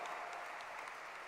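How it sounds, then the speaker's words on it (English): Faint, steady audience applause at a live research and entrepreneurship event, a soft continuous crackle of many hands throughout. "A huge round of applause, everyone,"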